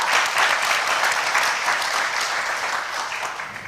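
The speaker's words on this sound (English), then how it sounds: "Round of applause for Sarah." A crowd applauds at a national Computer Science Education Week kickoff event, a full, sustained burst of clapping from many hands that fades slightly toward the end.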